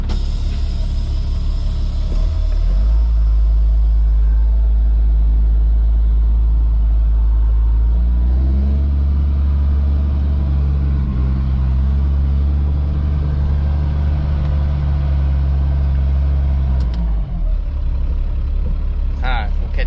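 A Ford F650 water truck hauling 2000 gallons drives down the road, its loud, steady diesel rumble swelling as it pulls away and holding strong near the mic before easing off at the end.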